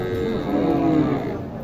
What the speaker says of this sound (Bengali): এখানে একটি গরু দেখতে পাচ্ছেন আপনারা